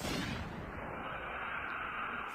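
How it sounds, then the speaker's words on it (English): Cannons made of ice and loaded with rocks fire in a Fairy Tail anime battle, a loud broadband blast that opens sharply and then rolls into a sustained, roaring rumble. "Cannons!"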